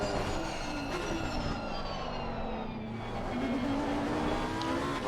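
A GT3 race car at Laguna Seca in a sim racing game drones under braking, engine pitch sliding down with traction control chattering, steady and loud with no voices.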